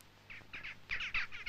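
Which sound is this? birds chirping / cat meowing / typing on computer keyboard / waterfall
birds chirping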